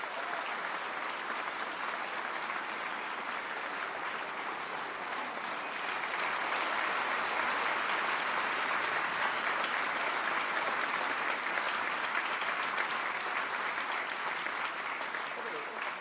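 A stadium crowd at a draft in the Madden 25 video game roars in a steady, sustained wash of cheering and applause that swells slightly partway through, with talk beneath it.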